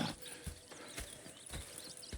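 Horse hooves clip-clop in Red Dead Redemption 2, with several steady, fairly close hoofbeats on a dirt ground over a soft game ambience.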